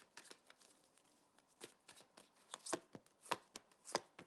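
A deck of tarot cards being shuffled and handled in short, crisp bursts, with several sharp riffling snaps growing louder toward the end.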